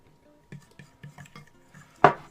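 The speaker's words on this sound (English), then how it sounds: "Now slowly stir in the flour." Fork stirring flour into a sourdough mixture in a bowl, a series of soft scraping clicks spaced about every quarter second, then one sharper, louder knock of metal against the bowl at the end.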